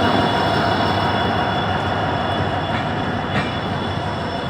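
Train rolling along the railway toward Ghaziabad and Delhi, a dense continuous roar of wheels and rail noise close by, steady and loud from start to finish.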